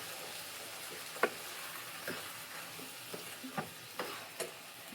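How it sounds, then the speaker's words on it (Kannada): Field beans crackle in a hot tempering, a soft continuous sizzle broken by several sharp stirring scrapes and taps, close and moderately quiet, with no talk. "ಈ ಕಾಳೆಲ್ಲ ಒಗ್ಗರಣೆ ಆದಮೇಲೆ ಅದು ಸ್ವಲ್ಪ ಡ್ರೈ ಆಗಲಿ."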